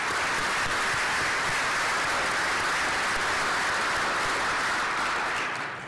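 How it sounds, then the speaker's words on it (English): A banquet audience at an engineering alumni awards event breaks into loud, sustained applause that fills the room evenly, then begins to taper off at the very end. "Please join me in a round of applause."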